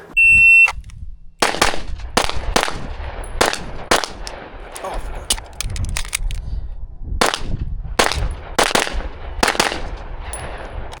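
Pistol gunshots ring out during a timed shooting drill: a beeping start timer, then rapid sharp shots in pairs and short strings with gaps between, loud and close.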